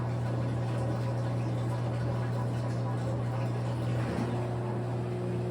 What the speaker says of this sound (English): You can hear that the drain pump, when it changes sound, is empty